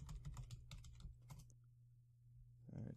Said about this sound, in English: I may have to type that in again.